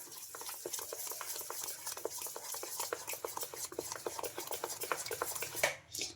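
Idli rava batter with a pinch of turmeric stirred briskly in a bowl, a steady run of quick wet scraping strokes with utensil clicks against the sides, close and fairly faint, no voices.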